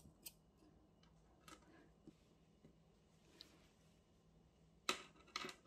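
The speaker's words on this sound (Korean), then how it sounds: "이제 이 테슬 길이를 끝부분을 맞게 잘라줄 건데요. 재단용 가위 가져와서" Fabric scissors snip through the ends of a crocheted yarn tassel, giving a few quiet, sharp cuts spaced apart and then two louder close snips near the end, in an otherwise hushed room.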